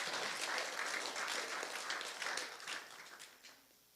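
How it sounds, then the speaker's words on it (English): An audience at an annual meeting applauds outgoing and incoming board members, a fairly faint round of clapping from many hands that holds steady, then gradually thins out and fades away. "it'd be great to have a round of applause for our outgoing board and incoming board members"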